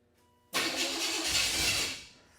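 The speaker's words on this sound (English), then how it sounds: "about ready to fire up his truck" A truck's LS1 5.7-litre V8 with a freshly ported cylinder head cranks and fires abruptly. It settles into a loud, rough run for about a second and a half, then winds down and fades.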